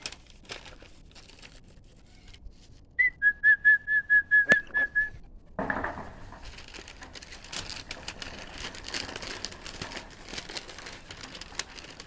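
A person whistles a short series of about seven repeated piping notes to call a group of birds that come for crumbled cookie treats, heard fairly close in a quiet outdoor setting, followed by rustling and crinkling noises.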